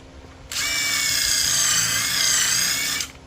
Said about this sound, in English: And I got my screw gun. So I think 2 screws.